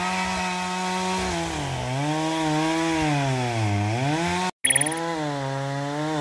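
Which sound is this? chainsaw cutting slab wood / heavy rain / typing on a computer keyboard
chainsaw cutting slab wood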